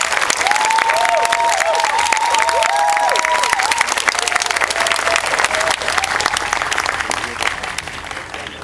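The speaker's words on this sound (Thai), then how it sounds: "ขอปรบมือต้อนรับพี่ด้วงโดวิทย์บุญนาคผู้ออกแบบผังเมืองใหม่ของผมครับ" An audience claps loudly and steadily to welcome the architect who designed a new city plan, while a few voices call out above the dense applause before it tapers off.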